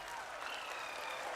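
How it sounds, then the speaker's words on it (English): Applause after India's moon landing comes as a steady wash of many hands clapping, moderately distant and continuous through the short moment. "Applauding."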